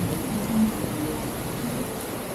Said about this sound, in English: Now that's what you call a heavy rain.